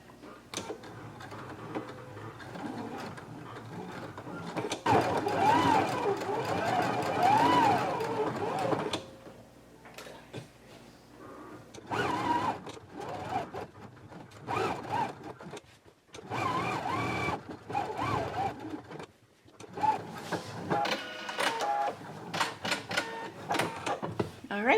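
A sewing machine stitches a pocket onto a jumper in a home sewing setting, running in repeated bursts with short pauses between them, close and moderately loud, while a person talks over parts of it.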